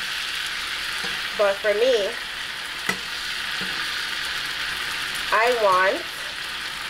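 A ribeye steak fries in butter with green habaneros, giving a steady soft sizzle throughout while a person talks briefly over it.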